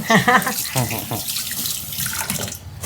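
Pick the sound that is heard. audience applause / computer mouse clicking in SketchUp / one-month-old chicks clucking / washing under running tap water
washing under running tap water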